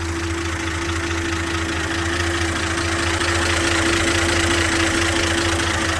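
A 1974 Dodge Dart's original slant six engine with about 58,000 miles idles close by in a steady, low, even rumble with no talk.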